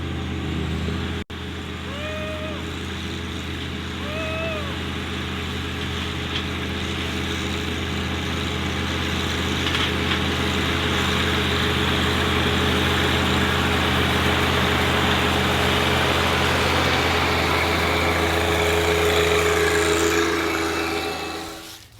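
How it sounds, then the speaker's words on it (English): Two John Deere compact tractors, a 2025R and a 2038R, run a 100-yard race: a steady diesel engine drone that builds gradually in loudness, holds near and strong, then cuts off abruptly at the end. "So we're gonna have like a 100-yard tractor race."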